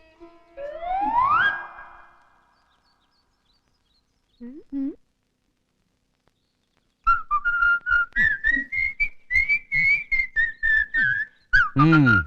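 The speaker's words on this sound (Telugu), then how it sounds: "ఆ విజిల్ ఎందుకు వేస్తున్నారో చెప్తే మేము కూడా జాయిన్ అవుతాం" A person whistles a rising note, pauses, gives a short whistle, then a long run of quick repeated whistled notes at a steady pitch, close and fairly loud.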